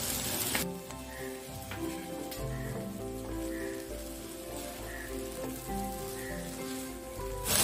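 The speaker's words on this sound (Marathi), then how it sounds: "अर्धा ते 1 मिनिट फक्त आपल्याला हे व्यवस्थित परतवून घ्यायचं आहे, म्हणजे सर्व सॉसेस नूडल्सला व्यवस्थित लागेल." Chow mein noodles tossed with sauces in a hot pan give a steady, close sizzle and crackle, with background music.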